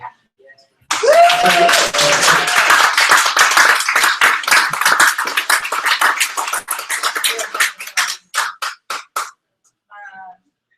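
An audience at a data visualization meetup breaks into sudden clapping that swells, holds for several seconds, then thins to scattered claps and fades to a few last isolated ones.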